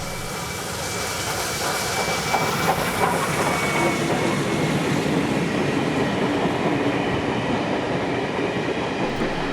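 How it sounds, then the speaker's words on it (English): Steam locomotive 5917 hauling a passenger train through Banksia station in New South Wales, a loud, steady close rumble of rolling wagons with rhythmic clatter throughout. "The train is hauled by 5917, which is owned by the 5917 Syndicate as it passes through Banksia"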